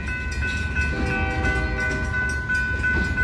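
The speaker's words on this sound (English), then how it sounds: "But this train is crossing Hyacinth." Train crossing Hyacinth Street in North Salem, Oregon, its horn blaring as a sustained loud tone over low rumbling rail noise, close by and with no talk.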